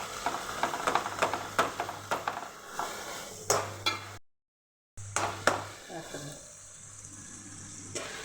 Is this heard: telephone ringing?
no